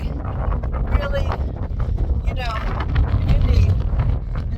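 Strong wind buffets the microphone on a mountain peak in Lassen Volcanic National Park, a loud, gusty low rumble that persists throughout, with brief bits of voice mixed in.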